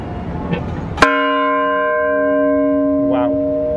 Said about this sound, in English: Of course there's a bell here.